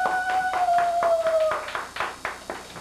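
Audience clapping at a Father's Day school event, sharp uneven claps close by, joined early on by a sustained whistle-like tone that slides downward and stops midway.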